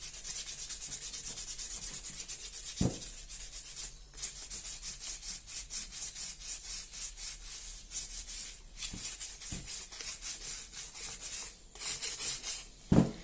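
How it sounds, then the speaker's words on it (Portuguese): Close, rhythmic hand sanding of a cement plant pot: quick repeated scratchy strokes of sandpaper on the hard surface, with a few brief pauses and small knocks. "A gente vai lixando"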